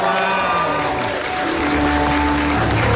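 Studio audience clapping on a comedy talk show, dense, continuous applause filling the room with a faint tonal hum under it.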